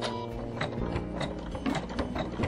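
An embroidery sewing machine stitching a stem stitch runs steadily close by, giving a busy mechanical whir with rapid, repeating needle clicks throughout and no voices.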